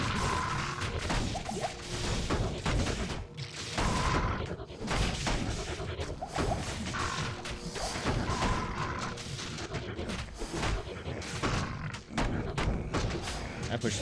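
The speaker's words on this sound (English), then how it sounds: "I'm busting out fire claws, don't even care." Fire Claws attacks in Diablo II: Lord of Destruction, a steady barrage of smashing, whooshing combat hits against swarms of beetles, dense and continuous throughout with someone talking over the action.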